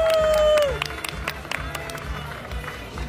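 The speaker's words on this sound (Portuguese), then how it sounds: "Uma grande salva de palmas para todos" Crowd at a rally event applauding the communication team, scattered clapping and cheering under a brief tone, with the clapping thinning out over a few seconds.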